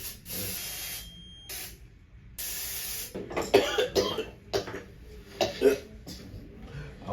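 Several hissing bursts from a spray bottle at a barbershop, one after another, followed by coughing and low murmuring voices.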